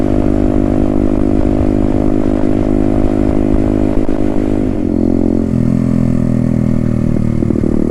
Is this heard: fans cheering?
no